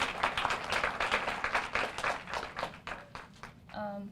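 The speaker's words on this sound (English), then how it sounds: "let's give her a round of applause to Josephina to welcome her" An audience at a 2016 graduation ceremony gives a welcoming round of applause, brisk claps rising and thinning over a few seconds before a voice begins speaking.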